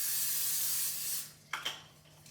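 A close, steady hiss of cooking spray onto a sheet pan for over a second, fading out, followed by a couple of light clicks and taps.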